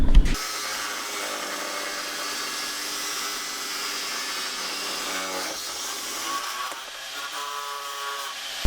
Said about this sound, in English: put the outer in the vise, and then we're going to mark it and cut 5/8 of an inch off the end of the outer tie rod end.